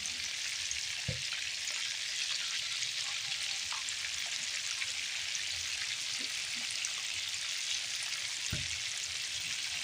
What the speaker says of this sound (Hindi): इसी तरह चारों तरफ से घुमा घुमा कर हम इन्हें फ्राई कर लेंगे।